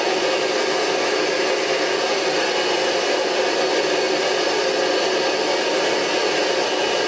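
A Rug Doctor carpet cleaner runs steadily on a mattress, giving a loud, continuous broadband whir with hiss and suction noise that never changes for several seconds, with no voices.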